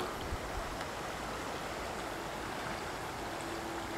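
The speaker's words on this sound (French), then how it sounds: "il y a vraiment du courant dans la rivière là" Steady broadband rush of river current flowing nearby, a constant wash of moving water with no speech, fairly even in level throughout.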